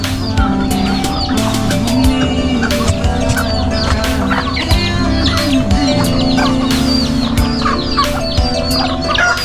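Native chickens on a Filipino poultry farm cluck steadily and close by, with scattered chirps and an occasional distant crow over a continuous farmyard din, with no talking.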